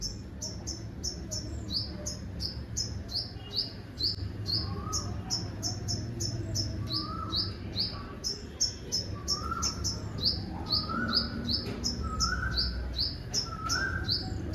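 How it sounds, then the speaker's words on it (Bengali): An Asian koel in spring repeats its rising call at a moderate distance, over a dense, rapid chirping of other small birds that continues throughout. "বসন্তের কোকিলের ডাক।"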